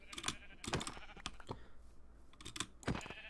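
Sheep bleat in Minecraft, several short wavering game calls heard up close and mixed with tapping keyboard clicks, with no talking.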